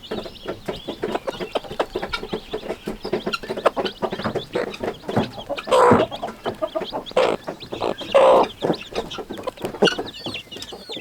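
Hens clucking in a shared laying box on an off-grid homestead, a dense run of close, continuous clucks and murmurs with a few louder drawn-out squawks midway, no talk.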